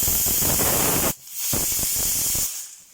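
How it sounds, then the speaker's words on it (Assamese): Steam hisses loudly from a pressure cooker whistle on a pot of Assamese-style mutton curry, two strong bursts broken by a short quiet gap, close and with no talking. "এতিয়া মই প্ৰেছাৰৰ ঢাকনিখন মাৰি দি মই 2টা হুইচেল মাৰাম"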